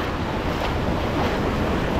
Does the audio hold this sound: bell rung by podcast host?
no